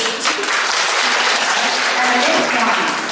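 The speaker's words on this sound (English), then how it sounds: "Please give her a round of applause." Audience applause at an education workshop for a speaker just introduced, a dense, steady wash of clapping from a full room that holds evenly for a few seconds.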